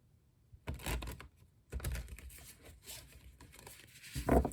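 Tarot cards being shuffled in a few quick bursts of papery riffling and patter, with brief pauses between, close and fairly soft.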